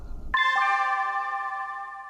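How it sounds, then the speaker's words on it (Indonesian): A school break bell at an Indonesian school rings: two quick ding-dong chime tones strike, then ring out with a long sustained decay, loud and close, following a brief rumble. "Bel istirahat berbunyi."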